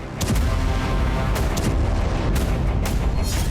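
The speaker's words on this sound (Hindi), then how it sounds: "एयर डिफेंस ने कई इंटरसेप्टर मिसाइलें फायर की" Rapid bursts of air defense interceptor missile fire boom out in a loud, continuous barrage at night in Iran, with sharp launches repeating every second or so.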